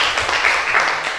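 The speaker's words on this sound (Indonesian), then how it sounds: "silakan tepuk tangan" A classroom of students applauds together, a dense, steady patter of clapping hands close by that holds evenly throughout without any voices.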